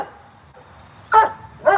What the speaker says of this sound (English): Apollo, why are you barking, buddy?